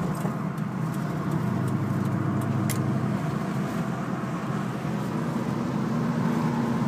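A 2002 Ford Mustang GT with tuned transmission shift points accelerates while driving, heard from inside the car as a steady, full engine drone with road noise that holds evenly throughout.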